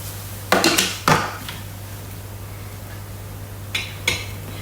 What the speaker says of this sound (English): Now we're going to put the lid on